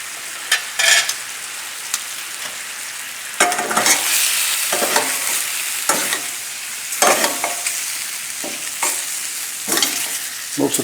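Shrimp sizzle in a frying pan as they are mixed, the steady close fry broken by repeated scraping stirs that come in bursts, with no speech.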